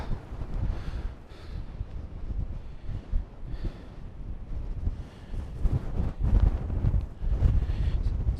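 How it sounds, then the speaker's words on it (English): Strong wind buffets the microphone at a Faroe Islands viewpoint, a loud, steady low roar with gusty surges that swell toward the end, with no voices. "So the wind has picked up quite greatly, which is a shame"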